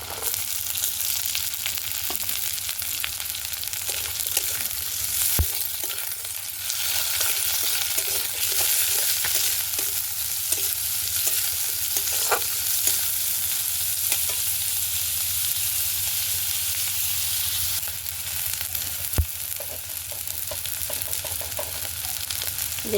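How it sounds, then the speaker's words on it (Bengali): Chopped onion hits hot oil in a pan, giving a continuous loud sizzle and crackle with occasional stirring scrapes and a couple of sharp clinks, with no talk over it. "এবার দেব কুচানো পেঁয়াজ কলি।"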